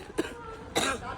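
Two short, sharp coughs from one person, close by and a moment apart, in a casual family comedy setting.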